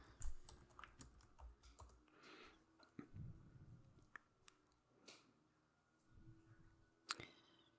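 A computer keyboard is typed on in short bursts, making quiet, close clicks and clacks. Small pauses fall between the groups of keystrokes, and one sharper tap comes near the end. No voices are heard.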